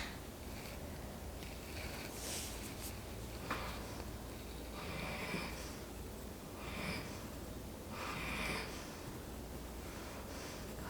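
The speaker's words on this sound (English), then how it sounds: "I don't know if you can hear her snoring." A sleeping pet gives soft, rhythmic snoring snorts at a faint level, repeating every couple of seconds over a quiet, hissy room background.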